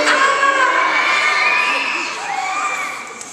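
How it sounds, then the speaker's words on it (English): A group of children crying out together in a loud, sustained shriek of mock fear at a Christmas Eve church service, a dense crowd of high voices holding for a few seconds before tapering off. "Make a scared noise."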